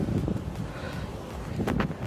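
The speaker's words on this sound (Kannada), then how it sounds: "ಸಮುದ್ರದಲ್ಲಿ ಸಖತ್ ಗಾಳಿ ಬೀಸ್ತೈತೆ." Strong wind at the seashore at night, a steady, close roar buffeting the microphone throughout with slight gusts, and no voices.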